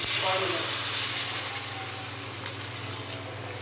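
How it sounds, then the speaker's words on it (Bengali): Water poured into a pot of cooked, fried-down mutton, a steady close gush and splash that slowly eases over a few seconds, with a low kitchen hum beneath. "এবার আমি এর মধ্যে অ্যাড করে দিচ্ছি জল"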